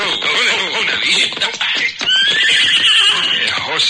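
Horses neigh and whinny loudly and close by, with shuffling hooves, in a western outdoor scene near a water hole.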